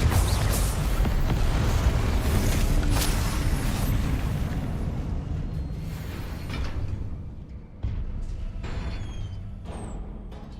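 Confringo fire-blast spell explosions in Hogwarts Legacy: a dense roaring burst of blasts that slowly fades, then a sharper crack near the end, with scattered pops and crackling after.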